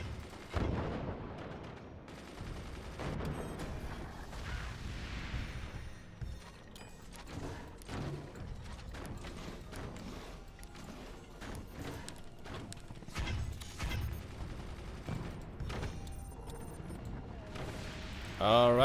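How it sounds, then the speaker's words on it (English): Mortar shells fire in the strategy game Forts as a string of dull thumps and crackling blasts over a busy backdrop of mechanical game noise, with a voice talking at times. "Those are mortar shells, right? I heard it correctly?"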